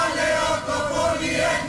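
Protesters from the "Don't Pay" movement boo and jeer as a former PASOK MP leaves the Lamia courthouse, a dense, continuous crowd roar of raised voices that never breaks.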